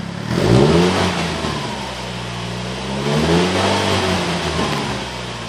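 A Saturn Sky with the 2.4-liter engine and stock exhaust revs twice in close succession, each rise swelling to a loud, near roar before easing back, with a steady mechanical hum running between the pulls.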